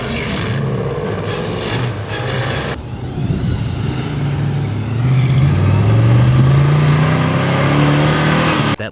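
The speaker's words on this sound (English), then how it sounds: "That legendary V8 rumble that makes the Interceptor sound so intimidating?" A 1973 V8 Interceptor car engine rumbles deeply, then revs up with a rising roar that climbs and holds, loud and close, before cutting off at the end.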